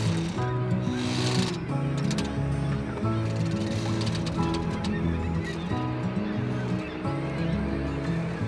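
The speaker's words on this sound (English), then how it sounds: "Sea lion." Sea lions calling near Seward, Alaska, heard from a sailboat: a dense, continuous chorus of overlapping hoarse, honking barks and roars, fairly loud and steady throughout.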